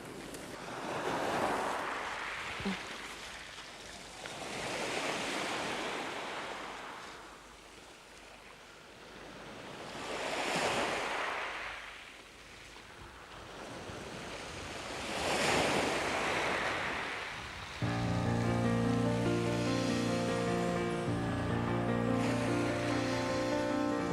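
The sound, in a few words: waves crashing on a pebble shore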